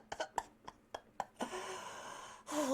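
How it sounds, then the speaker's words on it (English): A person gasps sharply after a quick series of short breathy clicks and huffs, then a longer rushing breath follows, close and fairly quiet. "Gasp."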